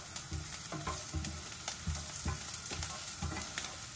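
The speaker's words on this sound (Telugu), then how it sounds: "ఈ టైంలో నేను చిల్లీస్ వేసేస్తున్నాను." Chillies hitting a hot pan of onion, ginger and garlic for vegetable Manchuria, with a steady close sizzle and occasional stirring scrapes and clinks, no voices.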